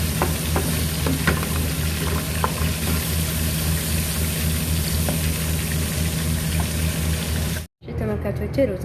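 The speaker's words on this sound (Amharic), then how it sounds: "ጉበቱን በዚህ መልኩ ተጠብሶ በደንብ አድርጌ ነው የጠበስኩት" Chicken liver frying in a pan gives a steady, close, dense sizzle that runs almost unbroken, with a brief dropout near the end.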